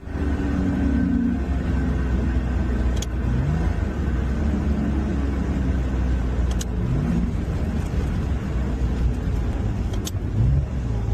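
A Nissan Skyline swapped to a dual-clutch transmission runs on the road, its engine a loud, continuous low drone with rising and falling pitch as it works through downshifts, heard close without talking.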